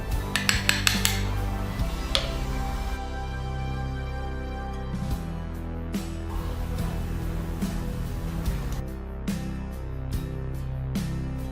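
A spoon clinks and scrapes against a bowl as cornflour is stirred bit by bit into a homemade skin cream. Sharp metallic taps come in a quick cluster first, then sparser knocks over a quieter background.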